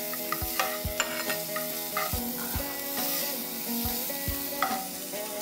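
Cumin, ginger and garlic frying in oil for a North Indian gravy, a steady close sizzle broken by repeated sharp scrapes of a spoon stirring in the pan, with no talk.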